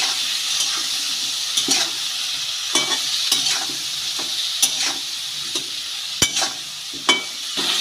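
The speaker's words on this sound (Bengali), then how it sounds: "আর এই কুলের মধ্যে খুব সামান্য পরিমাণে দিয়ে দেব হলুদ হলুদ ও লবণ দিয়ে খুব ভালো করে ফুলগুলো নেড়ে চেড়ে নেব" Jujubes being stir-fried in a pan with turmeric and salt for a pickle: a steady frying sizzle runs throughout, broken by repeated scraping and clattering stirs, with no talking.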